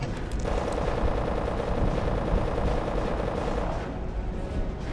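A World War II era shotgun in the game RealRTCW fires amid a steady, dense rattle of continuous gunfire, loud and unbroken for several seconds.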